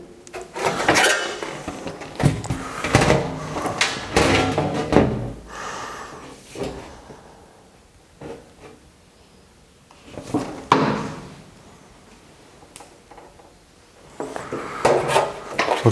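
Sheet metal is bent up to 90 degrees on a box and pan finger brake, with bursts of metallic clanks, scrapes and rubbing handling noises separated by quiet pauses, close by.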